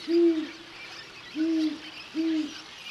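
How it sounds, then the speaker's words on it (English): Three deep hoots from a great horned owl on cliffs, evenly spaced about a second apart, each clear and moderately close against a faint hiss of background air. "Great horned owls share these cliffs."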